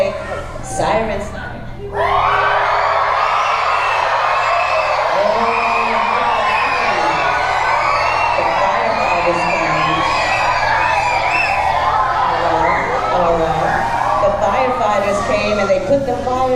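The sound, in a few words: children imitating sirens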